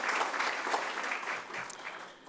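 An honors day audience gives a brief, steady round of applause for departmental award recipients, a dense even wash of clapping with no voices.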